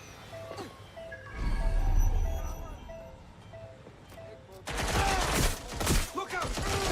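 A burst of rapid gunfire erupts in the Watch Dogs Legion video game, loud and dense after quieter game sounds with repeating electronic beeps and low rumbles.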